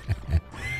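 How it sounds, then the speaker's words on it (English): A horse in Red Dead Redemption 2 lets out two short, low grunts right after being punched, then a quieter low rumble lingers. "Oh, I didn't mean to punch the horse."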